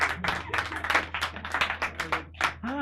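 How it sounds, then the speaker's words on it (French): Scattered, rhythmic audience clapping at a live Saturday evening show, uneven bursts of close hands with a brief voice creeping in near the end. "on l'applaudit encore"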